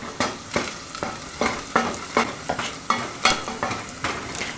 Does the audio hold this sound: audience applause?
no